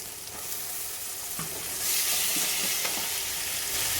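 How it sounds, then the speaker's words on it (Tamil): Onions and tomatoes sauté in a pan for cauliflower curry, giving a steady, close frying sizzle that grows slightly louder and brighter halfway through, with a few soft stirring knocks and no talking. "இது நல்லா வதங்கட்டும்."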